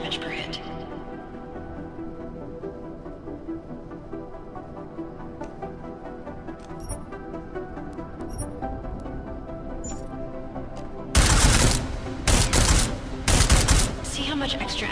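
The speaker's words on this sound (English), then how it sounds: "I like how silencers reduce sound, but the trade-off is less stopping power," Gunfire from the video game Deus Ex: Mankind Divided: after a long stretch of quiet game ambience, several loud bursts of shots arrive close together near the end.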